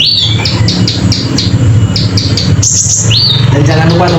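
Canaries sing in a breeding setup, loud and close, with rapid repeated chirps and whistled trills layered over a constant low background hum, with no talking.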